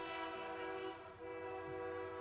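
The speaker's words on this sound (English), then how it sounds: "I think that was a real train horn, not played over the PA system." A real train horn blows near a minor-league baseball stadium during a game. It holds a sustained, strongly tonal blast with a slight dip midway, then resumes. It sounds moderately distant, and the ballpark ambience stays underneath.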